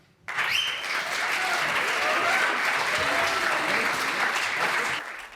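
An audience bursts into sustained, loud applause welcoming Daniel Kahn on stage, dense clapping that holds steady for several seconds before tapering off.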